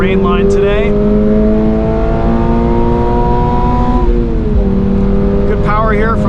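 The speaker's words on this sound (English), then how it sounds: "Good power here from that boxer engine." A 2024 Subaru BRZ tS boxer engine pulls hard on a wet Road America track, heard from inside the cabin as a loud, rising drone that climbs through the revs, dips at a gear change, and keeps pulling.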